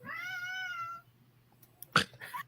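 A cat gives one drawn-out, tonal meow lasting about a second, close and clear, followed by a few faint rustles and a sharp clatter.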